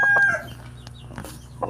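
Chickens cluck nearby in short bursts, with a brief crowing-like call at the start, over low background noise.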